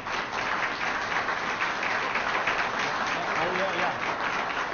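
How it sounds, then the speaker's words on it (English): Sustained audience applause at a professional staff development certification awards ceremony, a dense wash of many hands clapping steadily for nearly five seconds with no break, loud and close, with the crowd's voices blended into it. "for a big round of applause"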